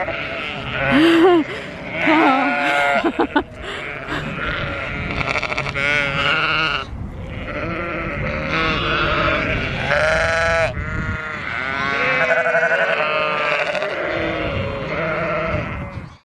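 A flock of sheep bleating repeatedly and loudly at close range, overlapping calls of varying pitch filling the whole stretch, with a brief spoken exclamation near the start.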